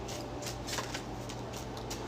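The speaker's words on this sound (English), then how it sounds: "We need 3 more shuffles." Deck of tarot cards being shuffled during a reading, a short run of soft, quiet riffling and slapping bursts, close by with no talking.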